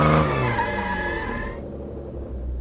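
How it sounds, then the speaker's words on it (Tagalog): A car's tires squeal under sudden hard braking to avoid a rider, a loud tonal screech that holds for over a second and then cuts off, leaving low rumbling. "Dinig na dinig ang malakas na ugong ng gulong ng sasakyan na tila umaalingaw-ngaw sa payapang paligid."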